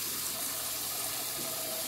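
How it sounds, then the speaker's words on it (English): A pot washed under running tap water, a steady close rush of water with no break and no voices. "we're gonna wash this pot because I think we might need this for the"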